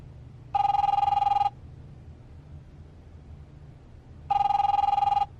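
Two bursts of an electronic telephone bell ring out in the video game The Wolf Among Us, each lasting about a second with a gap between them, loud over a low background hum.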